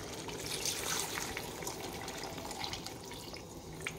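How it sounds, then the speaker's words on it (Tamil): Water being poured into a pan of Dhaba-style chicken gravy masala, heard as a steady, even splashing and trickling of liquid at close range, alone without talk. "இப்போ இதுக்கு தேவையான அளவு தண்ணி சேர்த்துக்கலாம்."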